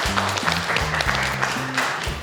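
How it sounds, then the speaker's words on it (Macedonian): A studio audience applauds for a knife-making craftsman, steady clapping holding at an even level for the whole stretch, with a low hum or music underneath. "еден голем аплауз ве молам"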